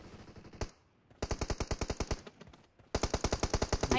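GROZA assault rifle fire in PUBG Mobile, heard as loud, rapid automatic bursts: a single shot, then a long burst, a pause, and another sustained burst, with no talking.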